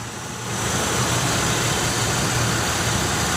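A 2007 Chevy Uplander wheelchair-accessible van with a 3.9 V6 engine idling, a steady broadband hum that swells up after a half second and then holds even and close with a low drone underneath.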